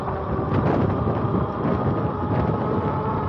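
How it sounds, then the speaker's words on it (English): Magicycle Cruiser fat tire e-bike ridden at full throttle only, a steady continuous rush of wind buffeting and tire roar with motor drone, loud and close throughout with no talking. "I want to test the maximum speed with throttle only."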